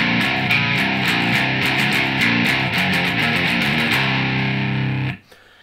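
Distorted electric guitar playing the closing riff of a song, loud and dense with rhythmic picked chords and sustained notes, then cutting off abruptly near the end into near silence.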